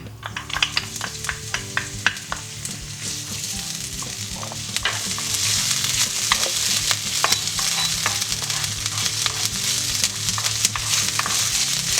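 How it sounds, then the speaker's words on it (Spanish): Garlic and ginger sizzle and spit in a little oil in a hot wok, a dense continuous frying hiss with frequent scraping and tapping of a utensil stirring, growing louder partway through. "Ponemos una sartén o como en este caso un wok al fuego con un poquitín de aceite y ponemos dentro el ajo y el jengibre"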